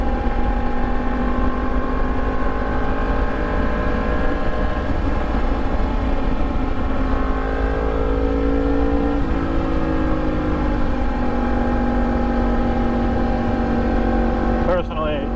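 A Yamaha MT-10 motorcycle fitted with an Austin Racing exhaust rumbles steadily and loudly while riding along a bumpy road, a continuous deep engine drone whose pitch shifts gently, with a brief clatter at the very end.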